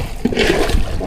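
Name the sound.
bailing water out of a boat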